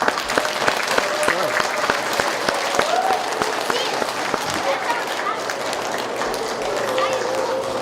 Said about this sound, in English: giving them a round of applause as well